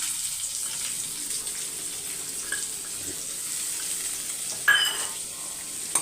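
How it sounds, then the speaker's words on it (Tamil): Garlic and onion sauteing in a pan, with a steady faint sizzle running throughout and a brief clink of a utensil near the end, close by with no speech. "பூண்டு நல்லா வதங்கட்டும் இப்போ அது வதங்கினோடனே ஒரே ஒரு பெரிய வெங்காயம்"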